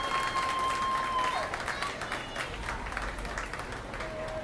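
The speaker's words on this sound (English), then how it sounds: "This time we're going to only clap our hands for one person." Clapping from the crowd at a 4-H/FFA meat goat showmanship contest, a broad, even patter filling the space, with a faint tone and low rumble of the show arena underneath.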